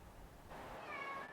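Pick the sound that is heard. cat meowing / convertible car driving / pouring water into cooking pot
cat meowing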